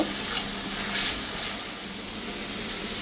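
Eggplant pieces stir-fried in spice paste with salt and turmeric give a steady close sizzle with faint stirring scrapes, continuous and fairly even throughout.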